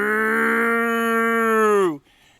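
A voice imitates a cow, giving a single loud, drawn-out moo with a steady tone that falls in pitch and cuts off sharply near the end.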